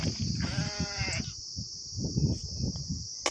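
A flock of sheep grazing in a farm orchard gives a clear wavering bleat, followed by softer rustling and movement over a constant high electronic whine in the background.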